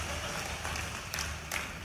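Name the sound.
audience clapping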